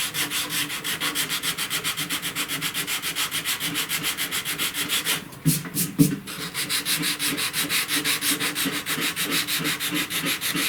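Body filler on a 1969 C10 truck inner door panel being sanded by hand, a rapid rhythmic back-and-forth rasp, close and steady, with a brief pause and shuffle midway before the strokes resume.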